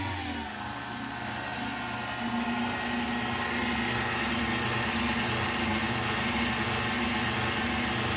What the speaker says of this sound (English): Might want to mix it on low speed for just a second, then you can increase your speed.